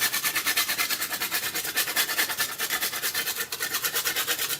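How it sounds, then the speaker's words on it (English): Lime zest grated onto a cake, producing a fast, even rhythm of close rasping strokes that repeat steadily with a brief pause partway through and no talking. "So next we're going to add some lime zest to the cake."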